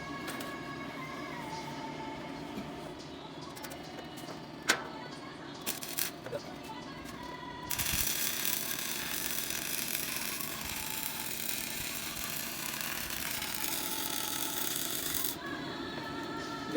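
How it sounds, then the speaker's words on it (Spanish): Welding steel for a spiral staircase in a workshop: a steady broadband hiss and crackle that grows louder and denser midway, with a few faint clicks beforehand and no talk over it. "Ya voy a soldar."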